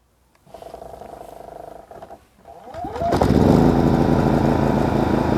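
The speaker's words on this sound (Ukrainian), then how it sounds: "На огляді сучасний генератор, який здатен тримати всю хату" A Brevia GP2300IES 2 kW petrol generator with electric starter cranks briefly, then catches and settles into a loud, steady close-up running drone with a buzzy, mower-like tone.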